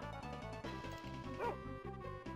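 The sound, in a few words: dog barking, from the video game Tales of Phantasia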